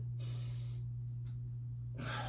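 A person draws breath audibly during a warm-up stretching routine, a long airy inhale followed by a softer breath, over a constant low electrical hum.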